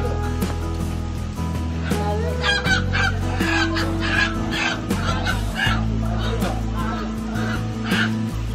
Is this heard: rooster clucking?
yes